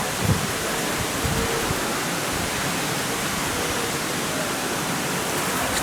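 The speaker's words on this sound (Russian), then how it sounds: "И так уже примерно 5 дней дождь льет просто без остановки" Heavy rain pours down without a break, a dense, steady hiss that stays even and close from start to finish, with no voices.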